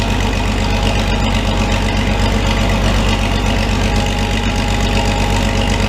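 A farm tractor's diesel engine idles steadily while warming up, a continuous close low rumble with an even mechanical beat throughout, no voices.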